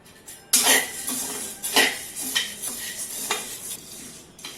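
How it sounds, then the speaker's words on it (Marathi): Roasted chana dal scraped and clattered out of a pan, with irregular metallic scrapes and light clinks of a spoon against the pan, close and moderately loud, no talking. "डाळ भाजून झाली आहे काढून घेऊया"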